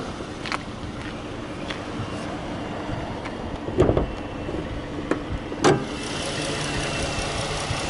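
A Dodge Charger SXT's 3.6 liter Pentastar V6 engine idles steadily under an open hood, a low continuous hum with a few brief knocks and clicks standing out over the drone.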